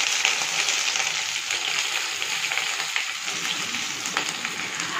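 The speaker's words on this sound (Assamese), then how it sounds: "আৰু পিয়াজখিনি ৰঙচুৱা হোৱাকৈ 5 মিনিট মানৰ কাৰণে ভাজিলো" Finely chopped onions sizzle in hot oil with bay leaves, cinnamon, cloves and cardamom for a mutton curry, giving a steady, soft frying hiss throughout with no talking.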